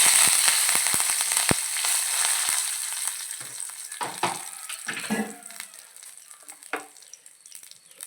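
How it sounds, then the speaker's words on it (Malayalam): Chilli and curry leaves fry in hot oil for a chutney with a loud, crackling sizzle and sharp spitting pops, the frying gradually easing and thinning toward the end. "മുളക് മുളകിടാം കരിവേപ്പില ഇടാം"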